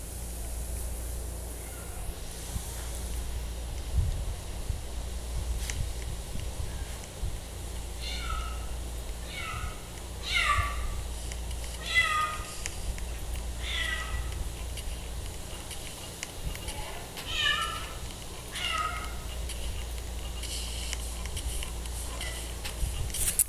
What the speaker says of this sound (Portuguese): Olha a gata, mãe.